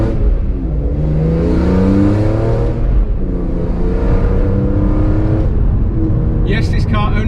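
A BMW E46 M3 CSL accelerates hard from inside the car, a loud engine note rising through the revs, dipping at each gear change and climbing again, with someone talking over it.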